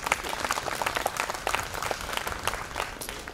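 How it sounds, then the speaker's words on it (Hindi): An audience at a workshop gathering claps together, dense overlapping handclaps at moderate loudness filling the whole stretch without a break. "ताली ठीक से बजा सकते हैं?"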